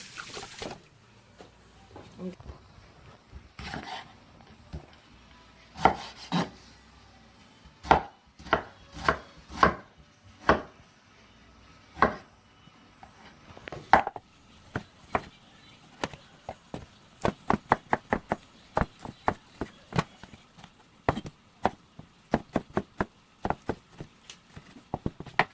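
A kitchen knife chops red tomatoes on a cutting board, with irregular sharp knocks that come in scattered clusters, then a fast steady run of chops near the end, close and clear with no talk.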